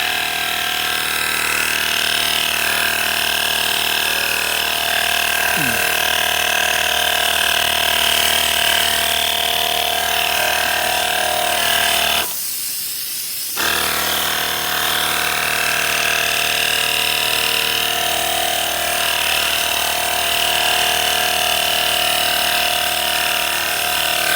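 An electric foam sprayer runs continuously with a steady motor-and-pump drone while washing a motorcycle, cutting out briefly midway then resuming at the same even level.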